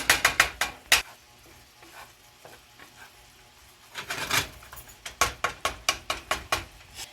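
A utensil scrapes and clacks rhythmically against a pan while a pineapple fajita mixture sizzles softly underneath, with bursts of repeated stirring strokes around quieter stretches.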